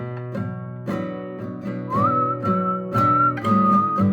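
Someone whistles a clear, bright melody over a backing of sustained, rhythmic instrumental chords, the notes held and sliding slightly.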